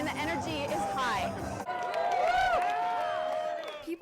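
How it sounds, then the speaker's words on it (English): An election night crowd at the Hyatt Regency murmurs and chatters in a large room, with a reporter speaking over it. "as you can see, the crowd remains and the energy is high"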